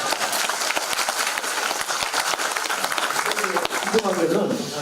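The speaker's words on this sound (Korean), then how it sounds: "다시 한번 박수 해주세요." An audience claps at a lecture on Korean unification, a steady patter of many hands that runs throughout with voices mixed in.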